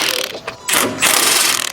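A ratchet fitted with a triple square bit turns a long bolt out of an Audi S4 during a sway bar install, giving loud, close bursts of rapid clicking separated by short pauses.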